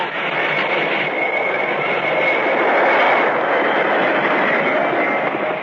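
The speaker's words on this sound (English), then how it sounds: "Stop the train. Stop it quick." A train rumbles past steadily, a loud continuous rolling roar with a faint high metallic tone running through it.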